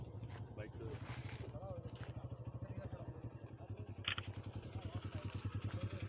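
A motorcycle rides up a mountain road toward Mehar Jabal, its engine putting out a steady, rapid pulsing throb close and continuous throughout, with some wind and rattle while the riders talk over it.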